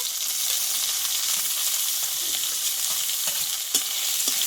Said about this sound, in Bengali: দিয়ে ভালোভাবে এই তেলে একটু ভেজে নেবো